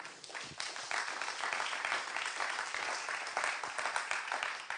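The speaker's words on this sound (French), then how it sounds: "Tous nos applaudissements aussi pour vous." Applause from the audience at a regional business awards evening in Hérault, France, a full and sustained round of many people clapping that stays loud and even throughout, with no voices over it.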